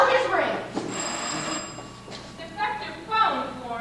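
A telephone rings indoors, its bright bell tone sounding a couple of times while people talk over and around it.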